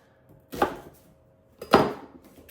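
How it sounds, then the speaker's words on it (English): Hand-operated food chopper working through onions: two separate thumping, crunching strokes about a second apart, each a quick chop with a short rattle after, in a quiet kitchen. "Fancy food chopper that's going to be doing my chopping for me."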